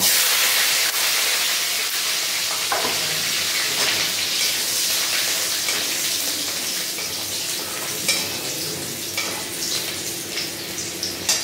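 Garlic fries in hot oil with a loud, continuous sizzle, broken by occasional clinks and scrapes of stirring, and no voices, while cooking crab curry.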